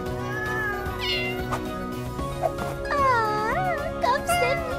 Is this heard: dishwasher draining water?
no